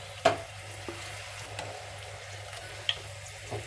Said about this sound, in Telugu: గోల్డెన్ కలర్ వచ్చేదాకా వేయించుకున్నాను కదా